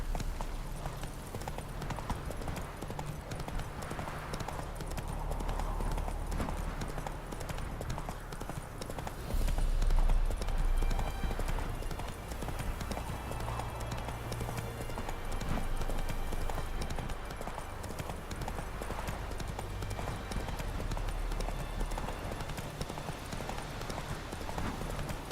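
A horse gallops steadily in The Witcher 3: Wild Hunt, Blood and Wine, its hooves drumming in a continuous rhythmic clip-clop. The galloping runs throughout at close range, with faint game sounds underneath.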